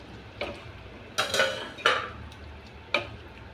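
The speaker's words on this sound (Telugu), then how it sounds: "ఇప్పుడు ఆల్రెడీ ఫ్రై చేసిన ఆలు వేసుకుంటున్నాను" Already-fried potatoes going into a masala curry in a pan, heard as a few sharp, close clatters of a spoon against cookware spaced irregularly over a quiet background, with no speech.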